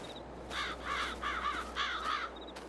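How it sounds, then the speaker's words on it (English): Crows in Farming Simulator 2 on an Iowa plains map give four loud, harsh caws in a steady rhythm over a low ambient hum, with no talking. "Oh, shut up, crows."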